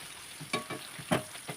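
Chopped onion and garlic fry in a pan: a soft sizzle under quick, rhythmic stirring scrapes, about four distinct strokes in a short burst, heard close with no voices.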